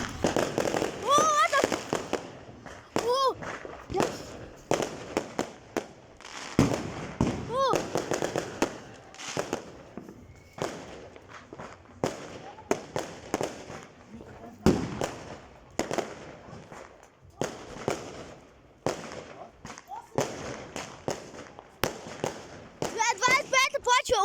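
New Year fireworks and firecrackers going off outdoors, a long run of loud sharp bangs and crackling bursts, some whistling, repeating irregularly from near and farther away while people talk and shout between blasts.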